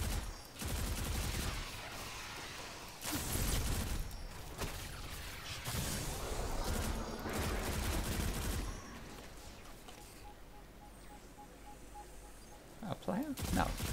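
Gunfire in the Destiny 2 video game during a mining operation: dense bursts of rapid shots and booming blasts fill most of the stretch, loud and sustained, with brief lulls and a final sharp burst, with voices talking over it.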